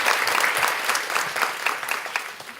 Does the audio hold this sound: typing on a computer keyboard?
no